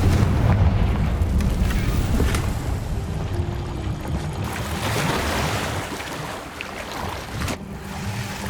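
Bombarda and Confringo spells explode in Hogwarts Legacy combat, a dense, loud roar of booming blasts and rumbling debris that fills the whole stretch with a sharp crack near the end.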